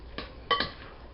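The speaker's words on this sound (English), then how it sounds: "Then we mix this up, and our guacamole is done." Guacamole being mixed in a bowl, with two or three quiet knocks and clinks of a utensil against the bowl over near silence, close and without voices.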